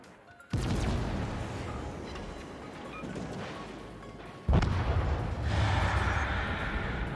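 Ship guns fire in World of Warships, two heavy booming salvos several seconds apart, each followed by a long rumbling roar of naval battle noise.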